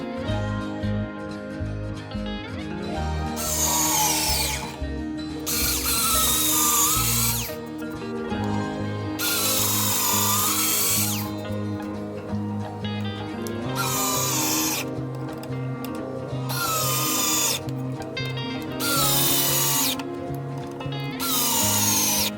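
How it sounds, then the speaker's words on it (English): A power drill whines in repeated bursts, biting into hard pallet wood with a strained grinding tone, cutting on and off between short pauses. "Maybe I need to get a more powerful drill."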